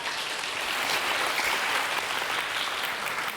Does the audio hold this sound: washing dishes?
no